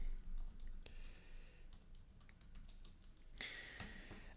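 A computer keyboard is typed on in short, quiet bursts of key clicks with pauses between them, faint and close, as a password is entered.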